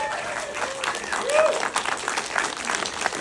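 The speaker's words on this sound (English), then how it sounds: "Let's give him a round of applause" Applause from a premiere audience for Poke Runyon, dense clapping rising and swelling, with voices and a few cheers mixed into the crowd noise.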